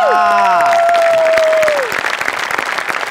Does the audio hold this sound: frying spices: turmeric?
no